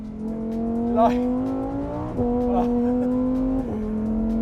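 A Lamborghini Huracán Sterrato engine revs in several rising and falling bursts, loud and close, with a steady droning tone between pulls.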